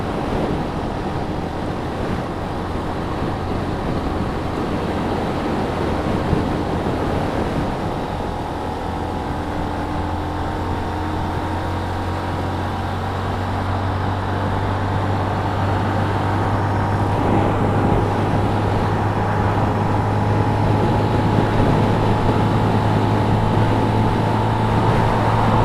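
A Benelli 125 BN motorcycle cruising at about 50 mph gives a steady, continuous engine drone with heavy wind rush over it, loud and unbroken throughout.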